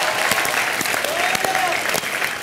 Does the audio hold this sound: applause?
yes